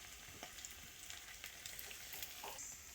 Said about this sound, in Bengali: ওর মধ্যে এই মাছের তেলটা দিয়ে দেবো,